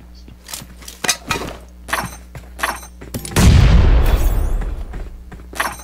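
A single grenade explosion in PUBG Mobile booms loudly and rolls out into a long rumble, preceded by scattered clicks and light thuds.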